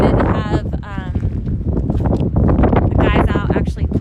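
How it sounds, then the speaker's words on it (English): Wind blows across open farm fields, rumbling steadily and loudly over the microphone while a person talks throughout. "it's going to be a little windy out here"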